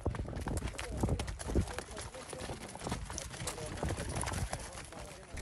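Pack donkeys carrying kitchen gear and luggage on a rugged desert trail clip-clop along, with irregular hoof thuds mixed with rustling and crinkling, while a narrator speaks over them throughout.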